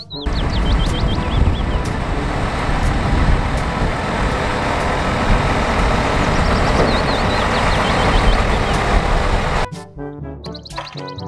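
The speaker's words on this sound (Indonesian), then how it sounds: "Mobil dump" A dump truck rumbles loudly and steadily with broad engine and road noise, with faint high chirps over it, before cutting off near the end.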